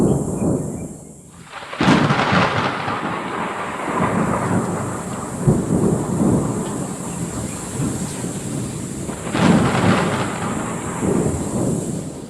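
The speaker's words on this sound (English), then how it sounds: "That evening a storm brewed in the distance, but luckily it never came too close." A distant thunderstorm rumbles low and long, with rolling thunder swelling and fading over steady rain and wind, including a sharper crack near the start and another heavy roll later.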